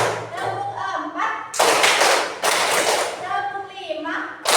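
Hands clap in bursts during a counted clapping game in a class, with sung and spoken voices between the claps.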